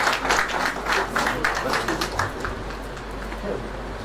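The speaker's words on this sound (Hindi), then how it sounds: "एक बार तालियों के साथ" Audience applause at a book launch for poet Vijay Vagari's work, a burst of brisk clapping up close that fades into a low murmur over the last couple of seconds.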